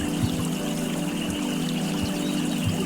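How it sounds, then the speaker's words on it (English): Water of a babbling brook pours and trickles in a steady, dense rush that holds the whole time, close and even, with no voices. "You begin to hear the sound of rushing water."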